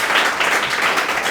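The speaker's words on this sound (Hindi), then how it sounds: "लोग के लिए एक बार जोरदार ताली मारिए" Steady applause from a class of students during a 10th-grade biology lesson fills the whole short stretch at moderate level, with no clear individual claps standing out.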